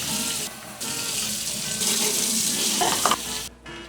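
Tap water runs steadily into a sink while dyed yellow Crocs are rinsed, a close, continuous splashing rush that shifts as the shoes move under the stream before it cuts off near the end.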